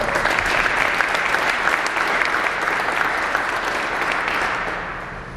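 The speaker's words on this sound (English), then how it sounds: "They deserve a big round of applause as well." An audience applauds at a FedEx Boeing 727 dedication ceremony at an airport, a broad, sustained wash of clapping from many hands that holds steady and then tapers off.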